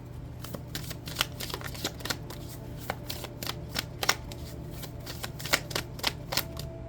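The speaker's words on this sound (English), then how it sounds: "Let's get some more cards. I'm not done shuffling yet." Playing cards being shuffled, a string of crisp riffling snaps and flutters at close range over a low steady hum.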